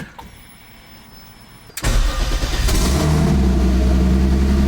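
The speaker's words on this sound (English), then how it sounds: "That startup is so crispy." A BMW E30 fitted with a freshly rebuilt forged turbo M50 engine cranks and fires after a quiet moment, catching abruptly into a loud, steady running rumble that fills the rest of the moment, close by.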